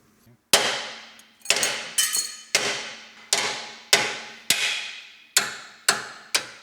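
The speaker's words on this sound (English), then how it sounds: "we're going to go ahead and see if I can get a hammer and chisel on this and break it free" A hammer drives a chisel against a welded joint on a Jeep bumper tube, ten sharp metallic strikes spaced about half a second to a second apart, each ringing briefly before decaying, loud and close with no talk.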